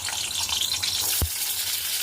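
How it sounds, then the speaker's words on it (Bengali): Pointed gourd (potol) frying in hot mustard oil in a kadai, a soft continuous sizzle with a brief stirring clatter partway through, close by and alone. "এবার পটলটা ভেজে নেব।"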